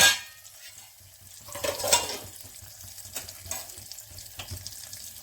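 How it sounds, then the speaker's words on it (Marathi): Mustard seeds crackle and spit in hot oil with sharp pops, loudest early then settling into steady sizzling with occasional clinks. "मोहरी चांगली तडतडली"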